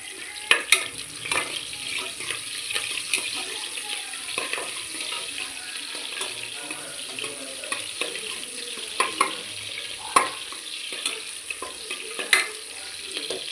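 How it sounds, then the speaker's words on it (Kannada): Chopped onion sizzles in hot tempering oil while a spatula stirs and scrapes the pan, with sharp clinks now and then. "ಈಗ ಇದು ಸ್ವಲ್ಪ ಟ್ರಾನ್ಸ್ಪರೆಂಟ್ ಆಗೋವರೆಗೂ ಫ್ರೈ ಮಾಡ್ಕೊಳ್ಳೋಣ"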